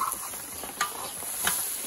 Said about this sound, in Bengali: কড়াইতে দিয়ে হালকা জল দিয়ে নেড়ে নেওয়া হচ্ছে। এটা মটর ডাল রান্না হচ্ছে এখন।